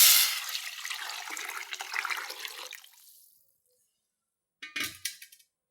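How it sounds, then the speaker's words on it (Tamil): Dissolved tomato liquid for rasam pours into a hot pan, a close rushing splash that fades out over about three seconds, followed by silence and a short burst of bubbling sizzle. "போட்டு வதக்கினதுக்கப்புறமா நம்ம கரைச்சி வச்சுருக்கிற அந்த தக்காளி அப்படியே ஊற்றிக்கலாம்"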